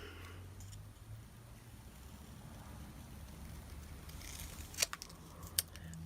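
Scissors make a few faint snips through paper during junk journal crafting, with sharper cuts near the end against a quiet background.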